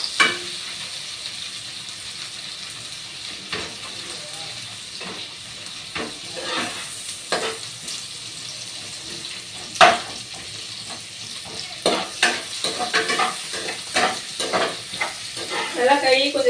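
Crushed tomato and onion sautéing in a pan for a homemade pasta sauce: a steady close sizzle broken by repeated scraping strokes of a spoon, which grow busier toward the end, with no talking.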